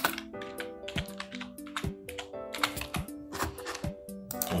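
Rapid, close typing on a computer keyboard with uneven bursts of key clicks and a few heavier thumps, likely the space bar, heard alone.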